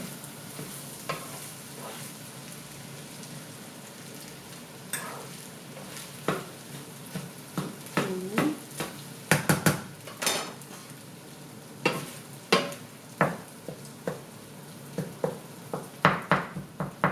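Shrimp paste rice with pork belly is stirred in a pan over low heat: a soft background sizzle builds into repeated scraping and clacking strokes of a utensil, uneven in rhythm, close and moderately loud, with no talking.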